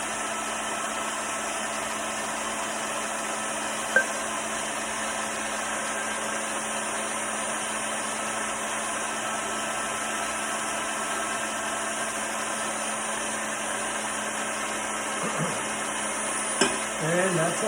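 An electric mixer whirs steadily as it beats the egg mixture for a tiramisu, a continuous even drone with a couple of faint knocks near the end.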